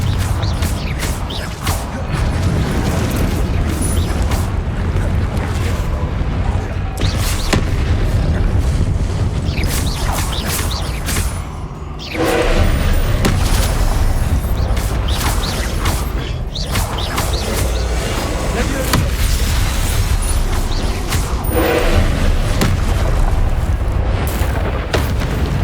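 Repeated Confringo fire-blast spells in Hogwarts Legacy: loud, rumbling booms and crackling blasts that pile up almost without pause, with one brief dip about halfway through before the barrage resumes.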